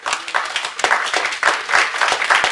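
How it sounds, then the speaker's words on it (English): A church congregation claps hands in praise, irregular bursts of many hands swelling and falling in waves, close and lively, with faint voices mixed underneath. "Give God a hand clap praise."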